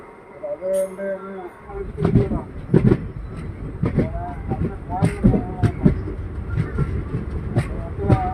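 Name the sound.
train departing Nemom railway station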